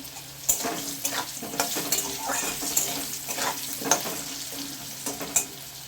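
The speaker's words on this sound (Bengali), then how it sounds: "আলুটা আমি দু মিনিট ভেজে নেব" Potatoes frying in hot oil with turmeric and salt, a continuous sizzle broken by repeated spatula stirs and clacks at an irregular rhythm, close and moderately loud.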